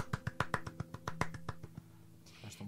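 Hands clap in a quick, even rhythm in a radio studio, about a dozen sharp, close claps in a row that then stop, leaving quieter noise behind.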